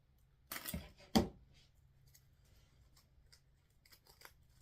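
Scissors snip twice in quick succession through grapevine stems being trimmed for a wreath, then a few faint light clicks and rustles follow in a quiet room.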